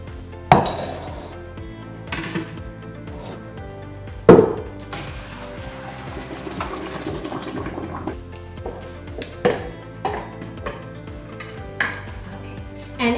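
Cooked pasta is tipped from a pot into a colander on a home stove, with a rushing pour of water and metallic clinks and knocks of the pot against the colander, close and fairly loud.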